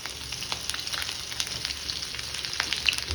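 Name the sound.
ginger sizzling as it is added to hot oil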